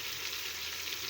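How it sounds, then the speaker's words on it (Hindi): Beef and bottle gourd frying with ginger garlic paste and chopped tomatoes, a steady close sizzle that holds evenly throughout, with no talking. "अब हम इसमें 2 टेबलस्पून जिंजर और गार्लिक पेस्ट ऐड करेंगे और 2 से 3 अदद बारीक कटी हुई टमाटर ऐड कर देंगे।"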